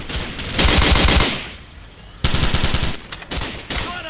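Rapid automatic gunfire in Call of Duty, set in Rio's Rocinha favela, loud and close in two sustained bursts separated by a brief lull, with shouted voices mixed in.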